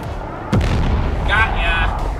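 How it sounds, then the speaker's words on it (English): Howitzer artillery fire in the video game Forts lands as one heavy, booming shot followed by rumbling explosion noise, with players talking over it. "It's a howitzer."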